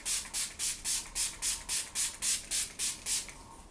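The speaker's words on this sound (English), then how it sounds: "this is the Makeup Revolution Sport Fix Lasting Hold Fixing Spray" Eleven quick, even bursts of Makeup Revolution Sport Fix setting spray mist in steady rhythm, close and crisp, with a fainter final puff; no talking.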